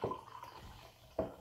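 Jack Daniels whiskey and lemonade poured into a glass, a short liquid splash at the start and another brief pour near the end, close and fairly quiet.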